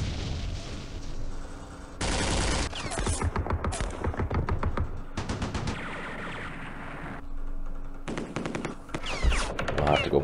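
Machine gun fire in the war strategy game Campaign Series Middle East, heard as rapid bursts of rattling shots that start, stop and start again over a steady low hum.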